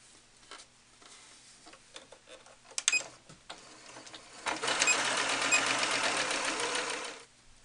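Sewing machine stitching a felt doll shoe from toe to heel fold: a few clicks and short bursts, then a steady, close, fast mechanical whir running for a few seconds before stopping.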